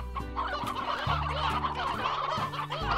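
Hens in the video game Slime Rancher cluck and gobble in a busy, continuous chorus over a low steady hum.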